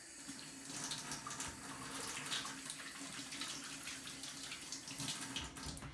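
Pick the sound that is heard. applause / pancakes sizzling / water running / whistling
water running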